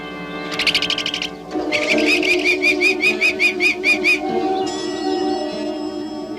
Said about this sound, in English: the male prairie falcon swoops to attack